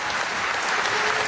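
Sustained applause from an audience at an award ceremony, dense and steady throughout with no gaps or talk over it.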